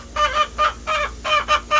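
A chicken squawks loudly and close by, giving six rapid harsh calls in an even, repeating rhythm.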